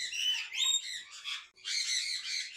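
Loud, shrill lorikeet squawks in rapid bursts, close by, with a brief pause midway before another harsh run of calls.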